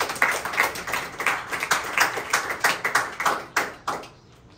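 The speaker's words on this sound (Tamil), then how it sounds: "கைத்தட்டி ஆண்டவர் மகிமைப்படுத்தார்." A church congregation at a Pentecost service claps in a steady, rhythmic beat, many hands striking together in unison for about four seconds before the clapping abruptly stops.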